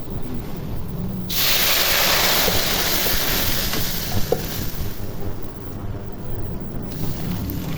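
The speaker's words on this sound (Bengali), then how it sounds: "বাদামি রং হয়ে গেছে, এখন ডাল ঢেলে দেব।" Dal lentils are poured into a hot pan and sizzle, a sudden broad hiss that swells and then settles into a steady crackling fry.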